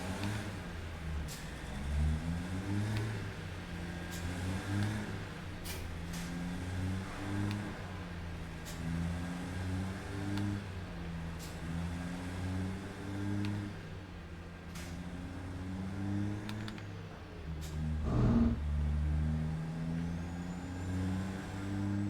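A truck engine in American Truck Simulator hums and revs through gear changes at moderate volume, with a brief burst of louder noise near the end and no talk.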